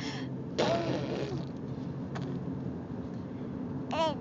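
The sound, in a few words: child imitating fart sounds with mouth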